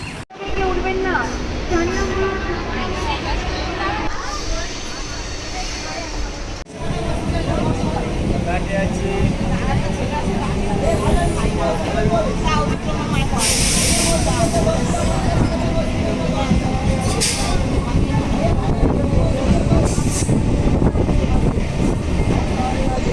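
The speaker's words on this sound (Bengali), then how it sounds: "ট্রেন চলে এসছে দেখেছো" A train rumbles in steadily with a broad rush and hiss, mixed with station crowd noise and chatter, loud and continuous throughout.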